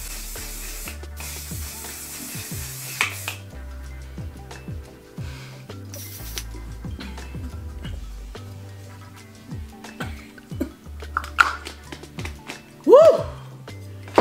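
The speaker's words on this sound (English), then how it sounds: "So I'm using this one size Until Dawn setting spray right here." Until Dawn setting spray misted onto a face during a foundation routine, with short hissing bursts early on under steady background music.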